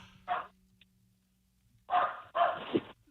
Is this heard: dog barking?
yes